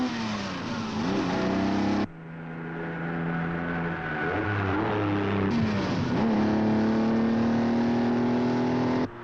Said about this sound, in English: The special sound of the Ferrari comes from the V12 engine